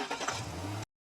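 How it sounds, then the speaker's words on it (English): A car engine turns over and catches, a short burst of cranking that settles into a brief mid-pitched idle hum before cutting off abruptly into silence. "there's actually the sound of the car turning on in the verse"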